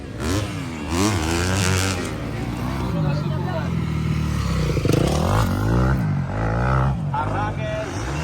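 A Honda CRF 250 motorcycle ridden on a competition course, its engine revving and rising in pitch repeatedly beneath constant crowd chatter and a commentator talking over it.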